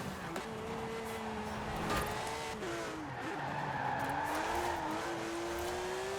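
Porsche Macan engine note from Forza Horizon 4, a steady drone rising and falling in pitch as the car accelerates and shifts, with brief tire squeal, loud and continuous throughout with no talk.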